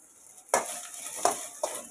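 Onion and coconut fry in a kadhai for chhole bhaji, with a close, bright sizzle that flares at three separate moments alongside light clinks of a spoon against the pan.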